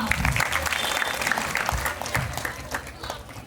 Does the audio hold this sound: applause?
yes